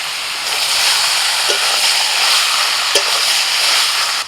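Mutton masala with chopped tomato, salt and turmeric frying in a pan for a special mutton thali, giving a steady, close, dense sizzle and hiss that runs throughout with no voices.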